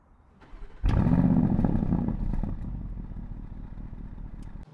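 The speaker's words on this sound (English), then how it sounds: "It's got a really powerful startup. I love doing the startup." A Porsche Cayenne Coupe V8 fires up with a sudden loud bark after a brief starter whir, then settles into a deep, rumbling idle that holds steady and close.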